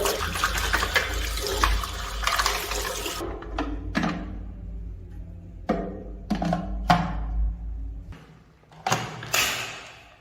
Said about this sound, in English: Pour dirty water and debris out.